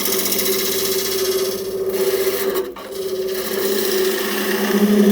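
A large skew chisel shaves maple wood while carving a kuksa, a continuous close rasping cut with a steady ringing tone, briefly interrupted near the middle before resuming.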